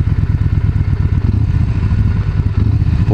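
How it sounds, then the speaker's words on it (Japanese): A Yamaha Bolt's air-cooled SOHC V-twin engine thumps loudly up close with a rapid, uneven pulsing beat, running steadily throughout. "SOHC だよね、これね、の空冷の V ツインエンジンで、駆動感がね、すごくいいよ。"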